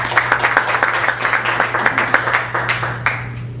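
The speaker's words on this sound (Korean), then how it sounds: "우리 박수로 맞아주시기 바랍니다." An audience applauds to welcome a speaker to a church mission lecture, with steady close clapping from a modest crowd that fades at the end.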